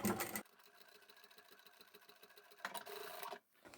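A sewing machine back-stitches over a bulky seam on a small zippered fabric handbag, producing a quiet, steady run of rapid needle pulses for a couple of seconds between louder handling noises.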